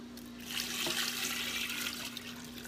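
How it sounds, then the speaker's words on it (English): Tap water runs steadily into a 14-quart GoWise pressure cooker holding a corned beef brisket, a close, continuous rushing splash that lasts throughout with no talking. "Okay, I'm going to also go ahead and add some water."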